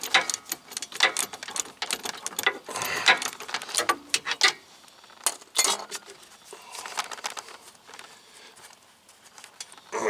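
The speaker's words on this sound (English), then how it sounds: "Get the ratchet on it." A hand ratchet turning a bolt on the rear wheel hub of a 2015 Buick Enclave, rapid clicking bursts in close, uneven runs with metallic clatter, then quieter sparse clicks.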